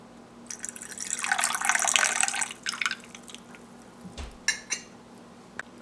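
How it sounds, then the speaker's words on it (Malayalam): Lime juice poured over ice cubes into a serving glass for a homemade lime drink: a steady liquid pour for about two seconds, then a few light clinks and drips as it settles, close and fairly quiet. "ജ്യൂസ് ഇതിലേക്ക് ഒഴിച്ചു കൊടുക്കുക."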